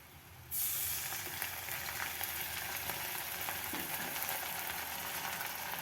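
Onion and garlic fry in a pan until reddish-brown, as the base for steamed goat-meat curry. After a brief silence, a loud, dense, continuous sizzle starts and holds steady to the end.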